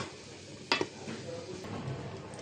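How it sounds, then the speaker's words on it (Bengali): Chicken meat stirred into a pot of bhuna khichuri made with rice and lentils, a short spoon scrape and knock against the pot followed by soft stirring and faint sizzling, close and quiet. "এখন আমি গোশ মিশিয়ে দিব এর সাথে।"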